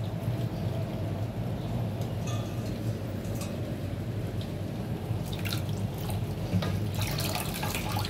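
Tap water runs steadily into a pot in a kitchen, a continuous close splashing hiss with a few brighter drips and clinks near the end and no talk.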